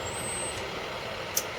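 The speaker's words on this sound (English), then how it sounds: "I did not lose any air pressure in those 60 seconds. Release my brake pedal." A bus air brake being released after a pressure test, a steady hiss of air with one short sharp burst near the end, heard close up without talk.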